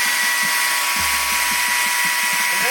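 A Stihl battery-powered electric chainsaw runs with a steady, close-up motor whine and a faint low hum, marked by light rhythmic ticking and no talk.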